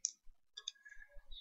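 A computer mouse clicked at a slow, deliberate pace, giving several faint, separate clicks that sound close and quiet with no speech.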